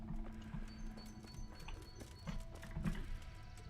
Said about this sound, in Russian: Так, у вас тут лошади, что?